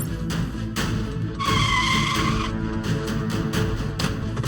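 Cartoon cars skid out of control with a sustained tire squeal over roaring engines and busy action music, loud and continuous.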